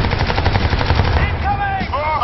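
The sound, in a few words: gunfire in the video game Crysis 2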